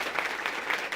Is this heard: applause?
yes